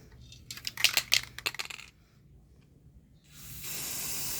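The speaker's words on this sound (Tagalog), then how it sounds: "Kapalan ko na lang yan ng ano, spray. Mga tatlong patong." Spray paint hisses onto a rusty cover in short bursts followed by a longer steady spray, close by, with no talk.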